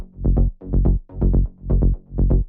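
Layered synth basses shaped with EQ, OTT compression and sidechain, in a melodic techno style: loud, thick bass notes swell and duck in a steady pumping rhythm, about five pulses with short dips between them, no voices.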